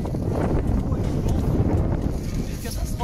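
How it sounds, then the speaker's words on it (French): Strong wind on a lake shore during carp fishing in Auvergne, buffeting the microphone with a continuous loud, low rumbling roar that never lets up. "On a du mal à lancer, il y a trop de vent."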